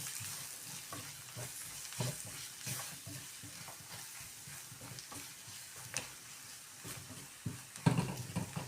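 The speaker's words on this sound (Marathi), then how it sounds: "मसाले आपण थोडेसे परतून घेऊया" Maggi masala and spices sautéed in a pan for spicy masala okra: a steady close sizzle of frying with repeated scraping stirs throughout, growing a little louder near the end, with no talking.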